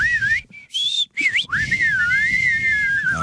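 A person whistles a wavering, sliding melody up close, loud and clear, with a couple of brief pauses early on.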